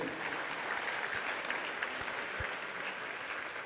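An audience at the inauguration of the AquaMalo aquatic centre applauds a mother-daughter duo of water performers, a steady wash of clapping that holds at an even level throughout with no voices over it.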